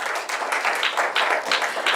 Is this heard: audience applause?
yes